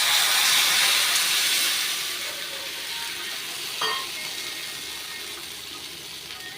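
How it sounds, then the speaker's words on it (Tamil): Tamarind water goes into frying spices for manathakkali vatral kuzhambu and sets off a loud hiss of steam and sizzling that slowly settles to a steady bubbling, broken by one small clink near the end. "நீங்கள் புளி ஜலத்தை இதில் கரைச்சி விட்டுக்கோங்க"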